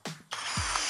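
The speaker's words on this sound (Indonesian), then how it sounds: "Kemudian untuk mode hammer drillnya." A power tool hammer drill switched to hammer drill mode spins up with a short click, then runs with a steady buzzing whir for under a second, close and moderately loud.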